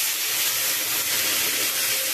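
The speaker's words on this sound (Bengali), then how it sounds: "আনাজগুলো ভাজা হয়ে গেছে, এর মধ্যে আমি একটু জল দিয়ে দেবো।" Water goes into a pan of fried vegetables and a steady, loud steaming hiss follows, broad and continuous for a couple of seconds with no voices.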